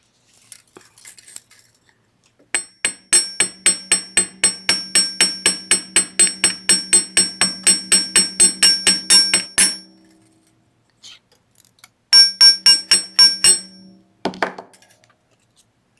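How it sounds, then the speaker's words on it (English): Rapid, evenly spaced metallic hammer taps flaring wire tips on a steel bench block, a long run of ringing strikes, a pause, then a shorter burst. "so I'm just going to hammer the tips of those and flare them out"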